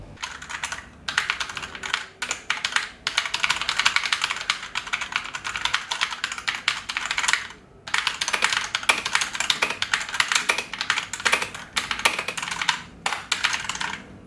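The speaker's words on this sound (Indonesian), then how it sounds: "mungkin ada yang penasaran dengan typing testnya. Ini kalian bisa dengar hasilnya seperti ini" Rapid typing on a Rexus Ayaka keyboard fitted with Otemu linear switches: a dense, steady stream of close keystroke clacks heard alone, broken by brief pauses near the start and midway.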